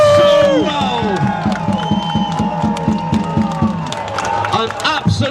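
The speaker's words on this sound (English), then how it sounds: "Can I get a round of applause for everyone who's got a spare hand?" A crowd of demonstrators at a Liverpool UKIP rally claps and cheers steadily and loudly, with voices and chanting mixed through the applause.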